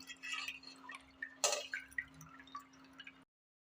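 Water dripping and trickling from paneer set in a sieve for a rasgulla recipe, a scatter of small, close drips with one brief louder splash, and no talk.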